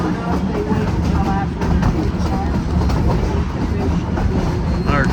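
A narrow gauge Cumbres & Toltec train pulled by K36 steam locomotive number 484 rumbles steadily along the Colorado line near Osier, with a continuous wheel roar and faint squeals heard from aboard and a voice speaking over it.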